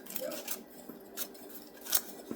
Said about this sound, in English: Just cut them into little pieces.